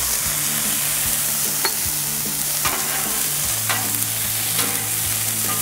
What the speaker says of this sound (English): now let's get these green chilies warmed up a bit right here